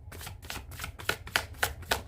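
A deck of cards is shuffled, giving a quiet, close run of about eight rhythmic riffling flutters, each a brief papery burst with short gaps between.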